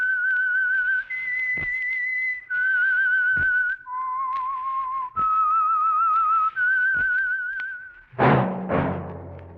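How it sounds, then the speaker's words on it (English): A person whistles a melodic tune of sustained, slightly wavering notes in short phrases, clear and close, ending with a brief burst of different sound; the theme of the 1947 radio drama The Whistler. "That whistle is your signal for the Signal Oil Program"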